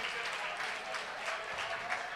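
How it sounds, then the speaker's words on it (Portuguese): An audience at an entrepreneurship and innovation talk applauding, a dense, even patter of many hands clapping continuously at moderate distance, fairly faint. "Uma salva de palmas para vocês."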